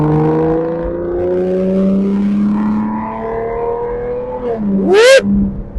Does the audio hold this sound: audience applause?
no